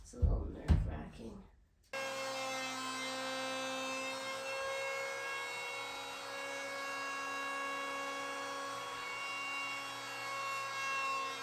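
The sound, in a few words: wood planer smoothing bench boards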